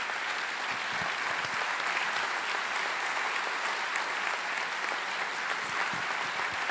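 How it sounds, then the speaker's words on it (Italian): Theatre audience applauding steadily at an awards ceremony in Pordenone, a dense, continuous wash of many hands clapping at even loudness throughout, with no voices over it. "Un applauso carico di gratitudine per lei"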